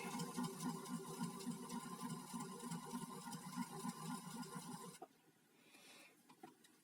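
A Janome 525S sewing machine starts stitching and hums with a steady mechanical whir and fast needle rhythm for about five seconds, then cuts off, leaving faint rustles and clicks.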